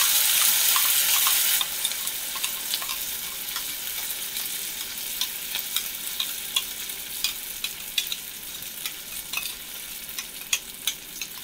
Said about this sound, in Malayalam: ഇനി ഇതിലേക്ക് നമുക്ക് നമ്മൾ അരച്ച് വെച്ചിരിക്കുന്ന അരപ്പും കൂടി ഇട്ട് കൊടുക്കാം.